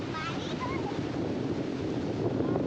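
Sea waves and wind at Pirwadi beach in Uran make a steady, loud outdoor rush with wind buffeting the microphone throughout.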